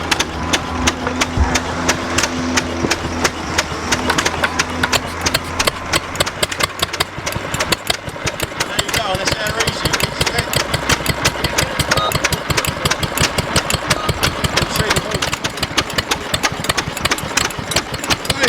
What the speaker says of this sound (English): There you go, nice little exhibition there, isn't it? Of a little Turner water pump. That's it, yeah. And a Wolseley engine.